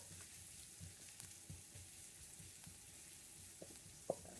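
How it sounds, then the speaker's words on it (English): Vegetables sauté in a one-handled wok for a broccoli and beef chow mein, giving a quiet, steady sizzle with faint stirring scrapes and one sharper clack near the end. "Then I'm just going to saute this for a little bit."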